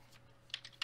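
A few sharp clicks of computer keyboard typing during an online Town of Salem game, three or four close keystrokes in a short burst.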